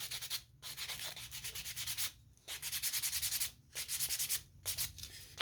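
Hand sanding of a handmade wooden piece in a workshop: close, brisk rasping strokes in repeated bursts, broken by short pauses between passes.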